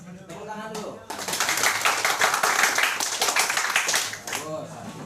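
A classroom group clapping together during an Islamic studies lesson, a brisk burst of many hands that rises after a teacher's voice, keeps up for about three seconds, then fades as talking resumes.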